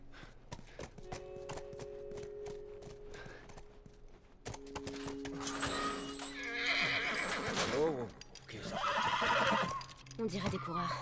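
Horse neighing in The Last of Us Remastered, a whinny rising over a low game ambience with harmonic tones, then a second louder whinny and clip-clop of hooves, with voices talking over parts.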